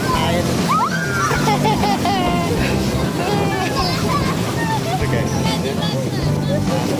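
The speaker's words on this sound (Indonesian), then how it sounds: "Kita lagi di pantai Serang." Wind buffets the microphone and waves wash in at Serang beach, a constant roar with voices talking throughout.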